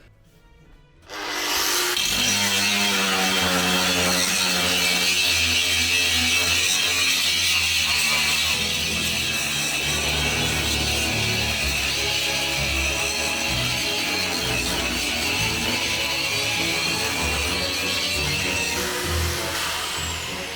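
A Bosch GWS 17-125 angle grinder runs steadily at a middle speed setting, grinding with a continuous loud whine that starts abruptly after a second of quiet and holds nearly constant to the end.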